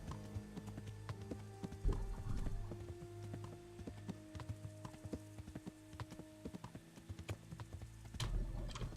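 Horse hooves clip-clop steadily in the medieval video game Kingdom Come: Deliverance, a close, regular trotting rhythm over a continuous game soundscape with a faint whinny, no speech.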